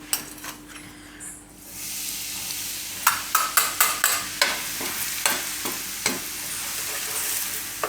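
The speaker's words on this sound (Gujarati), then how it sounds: "તેલ આપણું ગરમ થઈ ગયું છે. તો ગેસ ધીમો કરી દેવાનો. તો હવે આપણે એમાં નાખીશું આ મસાલો." Spices fry in hot oil over a low gas flame for a Gujarati sesame potato curry, with a steady close sizzle and a run of sharp pops and crackles from the spices, and no talking.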